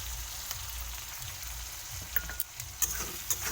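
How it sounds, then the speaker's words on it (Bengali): Dried fish frying in a pan gives a steady soft sizzle, with a few crackling pops and light clinks near the end, no talking. "এরপরে শুটকি মাছগুলো দিয়ে দেবো,"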